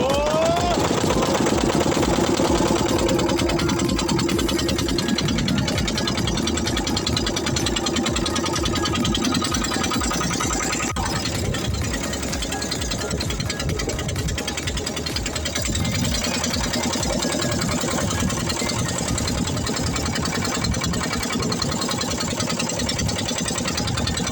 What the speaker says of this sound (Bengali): আমাদের বোট অ্যাকচুয়ালি শুরু হচ্ছে